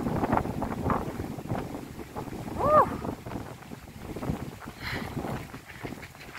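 Steady wind buffeting the microphone outdoors in Tampere, Finland, a low continuous rumble with gusty swells and no voices.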